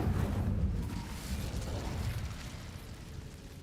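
An Incendio fire spell cast in Hogwarts Legacy gives a burst of whooshing flame with a rumbling, fiery roar. It is loudest at the start, then fades into a crackling tail, with no talk.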